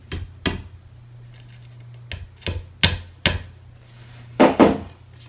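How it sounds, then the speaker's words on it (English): Wooden dowels tapped into an IKEA Kleppstad armoire shelf: sharp, close knocks, one early, a quick run of four in the middle, then two heavier taps near the end, with quiet gaps between them. "I'm not hitting hard, I'm just kind of tapping these into place."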